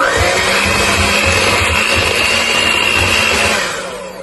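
An electric mixer beats vanilla cupcake batter after milk is added, giving a continuous loud motor whir with a faint rhythmic churning underneath that fades near the end.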